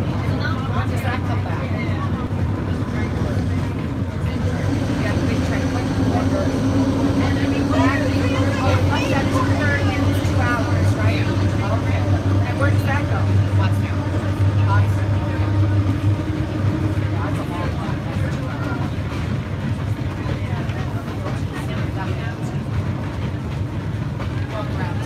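Heritage train ride at Colebrookdale Railroad, with a steady rumbling hum and rattling of the moving carriage under continuous passenger chatter close by.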